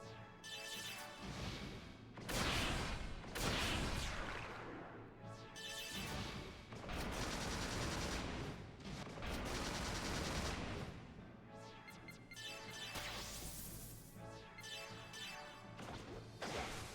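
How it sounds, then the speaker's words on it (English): Enemies blow up in Xenosaga III, with a run of loud crashing explosions and whooshing bursts that come in quick clusters over a steady game soundtrack, and no voices. "The sound of enemies exploding."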